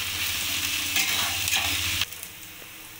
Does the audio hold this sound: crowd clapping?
no